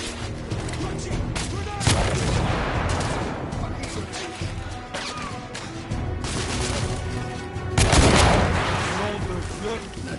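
Frag grenade blasts and heavy gunfire in The Order: 1886, a dense, loud firefight with two big booming bursts standing out over continuous shots and combat noise, with shouted voices mixed in.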